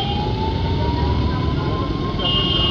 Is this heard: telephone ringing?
no